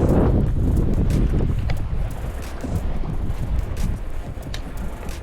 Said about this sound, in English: Wind's really throwing waves, crashing up on these rocks here.